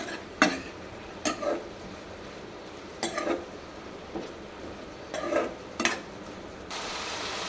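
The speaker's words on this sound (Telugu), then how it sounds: "చూడండి, ఆయిల్లో ముక్కలు అయితే బాగా ఫ్రై అవుతున్నాయి చక్కగా." Ridge gourd pieces fry in oil, a soft low sizzle broken by a handful of sharp, scraping stirs at irregular intervals, close by with no talking.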